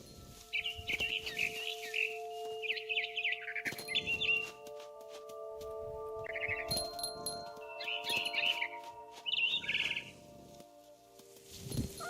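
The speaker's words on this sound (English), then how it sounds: "Then I heard chirping outside my window. It was a barn swallow going back to her nest." A barn swallow chirps outside a window in the video game What Remains of Edith Finch, giving repeated bursts of bright twittering over a low steady hum and intermittent clunks.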